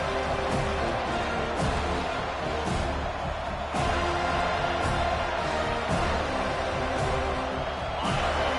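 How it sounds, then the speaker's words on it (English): Football stadium crowd during a third-down defensive stand in a college game, a dense sustained roar of cheering spectators with scattered sharp slams and whoops rising in intensity. "Decibels rising as the crowd gets behind this defense on 3rd down."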